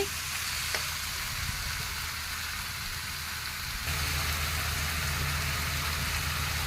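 Desi (native) chicken meat frying in a pan gives a steady, close sizzle that swells slightly louder partway through, with no talking.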